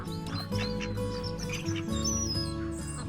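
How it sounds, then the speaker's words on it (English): Seagulls being fed fish from a wheelbarrow, with several birds calling close by in overlapping squawks and chirps. There are shuffling noises underneath and no speech. "I'm just going to feed the seagulls this fish from this morning."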